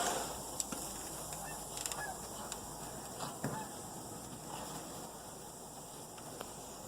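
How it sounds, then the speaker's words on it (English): A flock of geese flies over a snowy yard, their honks scattered and repeated, faint and distant above a quiet steady outdoor hiss. "And the geese are flying somewhere other than here."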